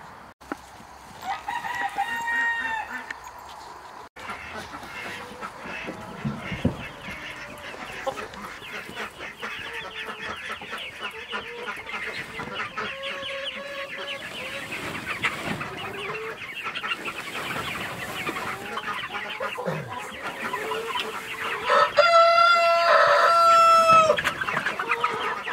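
Heritage meat chickens on a homestead cluck and murmur steadily close by for about 25 seconds, with a rooster crowing loudly near the start and again near the end.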